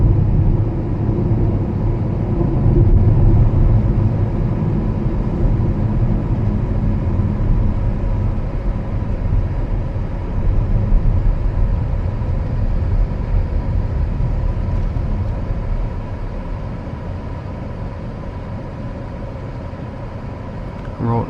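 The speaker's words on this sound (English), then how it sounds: "Road noise also quite loud." Steady road noise inside a BMW iX1 on a bumpy road, a loud continuous low rumble and tyre roar that stays constant throughout and eases slightly toward the end.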